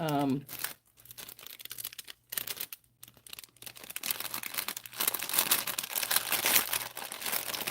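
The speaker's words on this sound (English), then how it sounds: "Sorry, crinkling the bag all over the place there." A plastic bag being handled at close range in a garden setting, giving repeated loud crinkling and crackling bursts that grow denser toward the end, with a voice briefly at the start.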